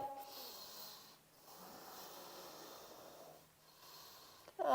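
Slow, deep breaths during a hatha yoga flow, each long airy inhale and exhale close and soft, with brief pauses between them and a faint background hum.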